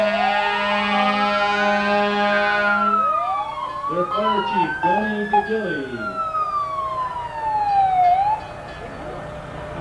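Several fire truck sirens wail, rising and falling together at a Labor Day parade in Mooers, New York, loud and close, with a horn-like blare and someone talking over them.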